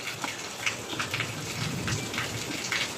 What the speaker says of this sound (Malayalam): പുറത്ത് നല്ല മഴ, അടിപൊളി മഴ.